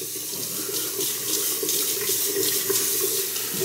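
Cold water runs steadily from a tap into a sink, a continuous splashing hiss with light gurgling, close by and with no talking.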